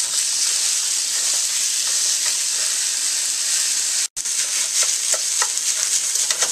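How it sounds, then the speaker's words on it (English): Ground beef sizzles loudly in a hot pan while being mashed and stirred, a dense continuous frying hiss with scraping crackles, briefly cut off once before resuming, close and without voices. "the ground beef has been cooking about 5 minutes. It's pretty much cooked and mashed"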